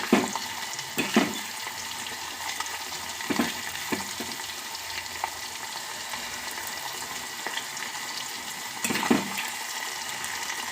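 Manneri fry cooks and sizzles steadily in a pan, a constant frying hiss broken by a few soft stirring clatters and scrapes, close by and with no talking.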